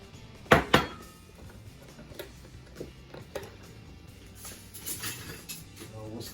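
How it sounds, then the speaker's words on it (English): A whisk beats milk and heavy cream in a bowl, giving two sharp metallic clinks at first, then lighter, irregular tapping and scraping against the bowl. "whisk that real good"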